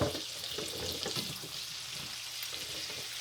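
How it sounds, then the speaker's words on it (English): Sliced potatoes sliding into a hot skillet and frying, a steady bright hissing sizzle with soft scraping and shuffling as they settle into the pan. "We're going to go ahead and slide the potatoes on in here."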